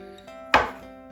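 A knife slices through banana for banana pudding, giving a single crisp cut against a board, close and fairly loud, over a faint steady hum.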